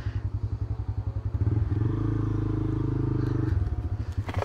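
A motorcycle that sometimes fails to start idles with a close, steady putter, then revs to a sustained roar for about two seconds before dropping back to the same rhythmic idle.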